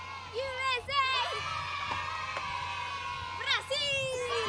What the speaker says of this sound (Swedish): Vi har samlats många och publiken är vild.